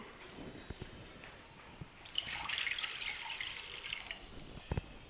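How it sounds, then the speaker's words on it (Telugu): Water is poured into a pot on a lit stove while making toor dal for methi dal, a steady splashing pour starting midway and running on, fairly quiet, with a couple of light knocks and no talk. "దీనిలో కొంచెం నీళ్లు పోసి"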